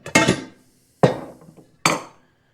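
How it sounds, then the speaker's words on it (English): An adjustable wrench strikes a metal coilover locking collar on a widebody turbo BRZ three times, each a sharp close metallic clank ringing briefly before fading, evenly spaced, with no talking. "All you got to do is just loosen up one of these locking collars"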